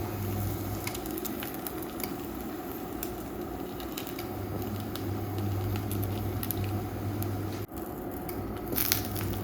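Folded lavash stuffed with minced meat sizzles steadily in a hot frying pan, a continuous close crackle with a low hum underneath and a brief dip near the end, no voices.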